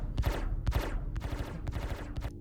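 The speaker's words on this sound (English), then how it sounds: "The staggered fire seems to only shoot out of 2 guns" Ship guns in a video game fire staggered volleys, several sharp bursts spaced at uneven intervals, loud and close with no talk.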